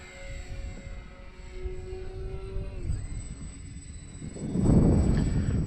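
An X-Fly Twin Nova RC twin-engine model airplane with landing flaps flies over a grass runway, its steady motor drone rising and falling as it passes, with a louder broadband rush near the end and no one talking.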